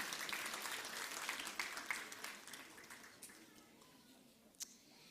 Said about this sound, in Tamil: இப்போது உங்கள் பாராட்டுக்கள் அவருக்கு உரித்தாகட்டும்